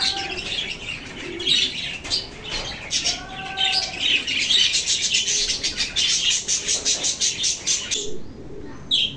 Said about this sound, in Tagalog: May extra pang 2 kalapate.